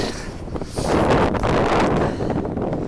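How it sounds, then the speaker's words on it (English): Strong wind roars against the microphone on an exposed mountain pass above a lake on the John Muir Trail, swelling into a loud sustained gust in the middle before easing slightly, with a rushing, blustery texture. "Not a whole lot of tree coverage up here, and it's really windy."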